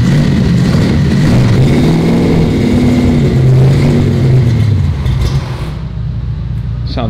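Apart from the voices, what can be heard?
Plymouth 340 Duster engine revving through new mufflers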